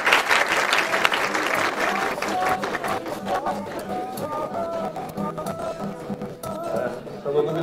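An audience at a school short film festival award ceremony applauds to welcome the jury president, sustained steady clapping from a crowd with murmuring voices and some tonal sounds underneath.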